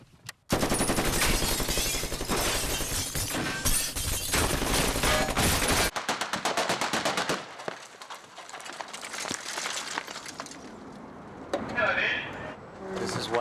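Machine gun fire on the set of the 2009 film Law Abiding Citizen during a staged scene with a robot, a rocket and Suburbans, a loud rapid volley that stops abruptly, followed by scattered bangs and debris with people talking.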